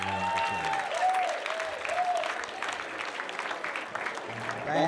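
Banquet audience applauding a school sports team at an awards evening, a steady wash of clapping from a large crowd lasting several seconds, with a voice speaking at the start and end.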